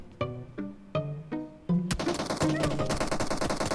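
Bursts of gunfire in the mobile battle royale game PUBG Mobile: a few separated single shots in a stepped rhythm, then a sudden loud stretch of rapid automatic fire that runs to the end, fairly close.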